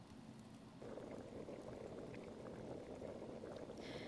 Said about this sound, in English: turned his head towards the sound of bubbling water nearby